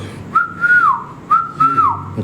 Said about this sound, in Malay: Kau dengar? Macam ada orang bersiul